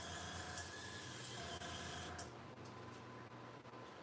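An airbrush sprays water through its gun to clean out leftover paint, a close steady hiss that runs for about two seconds and then drops to a softer, fainter spray with brief sputters, with no talking.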